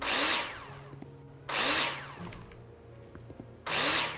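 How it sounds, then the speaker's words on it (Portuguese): Power drill driving screws in a builder simulator video game, heard as three loud, near whirring bursts of about a second each, with quieter mechanical clicks and thuds between them. "Now it's time to put in all the screws you need."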